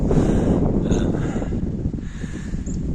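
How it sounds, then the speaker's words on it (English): Blustery wind in the Antrim Hills buffeting the microphone in a low, rumbling roar that rises and dips, with a faint bird call far off. "you get these gusts of wind as well"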